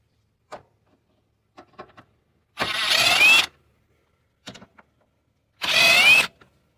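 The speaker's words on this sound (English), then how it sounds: "Two 10 mil bolts right here. We're gonna remove those." A power tool removes two 10 mm bolts during a projector headlight harness job, with two short loud whirring bursts separated by quiet pauses and small clicks of handling.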